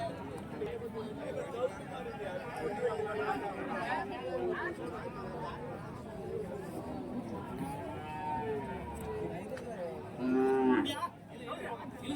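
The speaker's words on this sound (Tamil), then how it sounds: "நல்லா இருக்கு மாடு பார்க்க." Cattle moo among a busy crowd at the large Friday cow market in Kundarapalli, Krishnagiri, with one low, loud moo standing out near the end over constant people chatter and talking.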